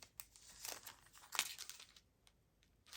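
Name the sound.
tearing open a package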